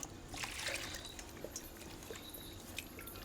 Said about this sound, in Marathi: मुळ्या स्वच्छ धुवून घेऊ